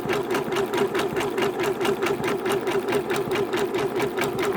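An embroidery machine stitches gold thread into red fabric in a quilt-in-the-hoop appliqué project, giving a steady, loud, fast mechanical rattle with evenly repeating needle strokes throughout and no talk.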